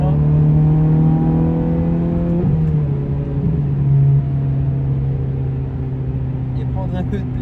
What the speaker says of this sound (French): je peux vous faire écouter le son du véhicule